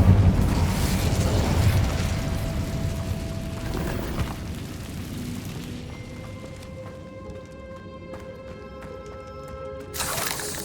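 An Incendio fire spell erupting in Hogwarts Legacy, a loud roaring burst of flame that rumbles and fades over several seconds into ringing magical chimes, ending with a fresh whoosh.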